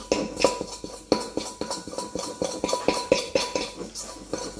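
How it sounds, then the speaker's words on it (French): Egg yolks are mixed into flour in a bowl for an almond sponge cake, giving quick, rhythmic scraping and tapping strokes against the bowl, steady and close. "je vais mélanger mes jaunes là à ma farine"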